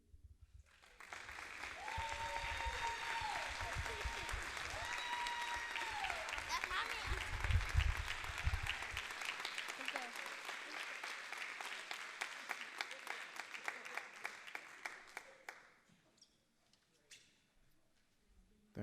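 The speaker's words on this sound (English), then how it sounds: "Let's give a round of applause for our students." Applause for students at a city budget hearing, a long spell of steady clapping from the audience that gradually thins and fades out, with voices talking over it near the start.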